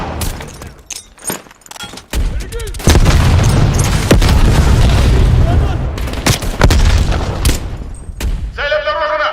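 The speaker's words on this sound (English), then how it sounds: "Throwing grenade!" A grenade explodes in the video game Call of Duty: Black Ops Cold War, a loud, deep boom with a long rumbling tail, preceded by sharp gunfire cracks and followed by a voice shouting in the game.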